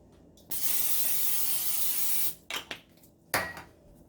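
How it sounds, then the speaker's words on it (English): A steady cooking oil spray hisses for about two seconds onto the bottom of a cooking basket or pan, followed by a few short scraping and clattering sounds nearby. "I'm going to spray the bottom again."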